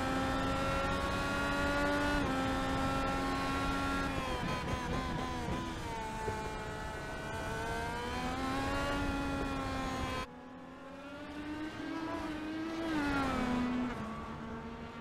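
IndyCar race car engines at Imola in a racing video game, a loud, continuous high-pitched engine whine rising and falling through gear shifts and corners, with a brief cut partway through.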